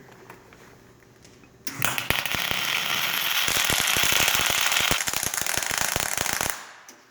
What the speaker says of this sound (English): I'm just going to spot weld right in there where that hole is, just to attach this plate to there